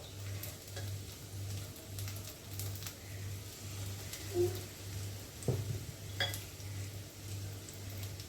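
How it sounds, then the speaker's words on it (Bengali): Taro pieces shallow-frying in a little hot oil, a quiet sizzle with a few utensil clinks, while a regular pulsing low hum and the soft coo of a dove sound in the background. "এখন একটা একটা করে আমি সব কটাকে আমি বেশি তেলে না, অল্প তেলে যেমন দিয়েছি অল্প তেলে ভেজে নেব।"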